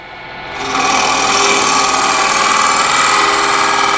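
A scraper cuts lightly into a wooden bowl spinning on a lathe, a steady whirring scrape that swells in after a quiet start and holds at an even, close level.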